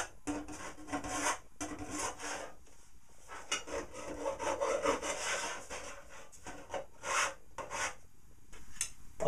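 A dreadnought file rasps back and forth while smoothing sharp edges on a workpiece, producing quiet, close, rhythmic scraping strokes in uneven bursts.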